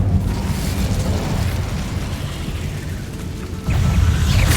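A fire spell cast in the Hogwarts Legacy video game lets out a loud, sustained roaring whoosh of flame over rumbling low noise, surging stronger near the end, with no talking.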